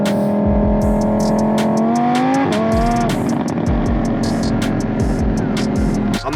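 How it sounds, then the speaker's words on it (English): A 2021 Lamborghini Huracan V10 fitted with an FI exhaust rumbles loudly up close, a steady deep drone with a quick rev that swells and dips, crackling pops scattered throughout. "some rear footage of exhaust sound"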